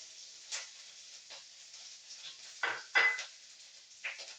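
Green chillies being stirred in a pan for lime pickle, with scattered light clinks and scrapes of a utensil against the pan, fairly quiet and irregular, no talking.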